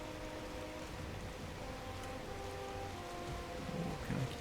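Steady rain hisses continuously in the Valheim game world at the edge between a dark, rainy biome and a lighter one, with a faint low rumble beneath and no voices.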